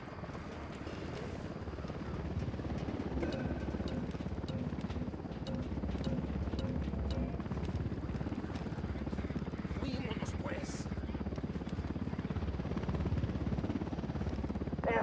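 A helicopter approaches in the video game Ghost Recon Wildlands, its low, steady rotor drone rumbling continuously and growing slightly fuller, with faint incidental sounds over it.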